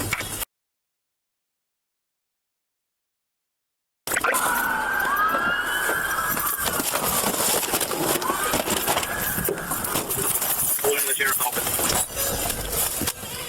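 An ambulance siren wails nearby from a following vehicle, its rising and falling tone sustained over steady road and engine noise after a brief silent gap.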